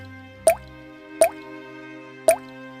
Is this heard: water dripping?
yes